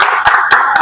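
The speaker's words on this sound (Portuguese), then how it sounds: "Então, hoje eles estão batendo palmas" A group of people clap hands outdoors in short bursts, several sharp overlapping claps close by, with a brief pause between each burst and no talking.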